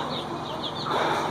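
Chickens on a small poultry farm clucking softly amid a dense background of farmyard noise, brief and continuous.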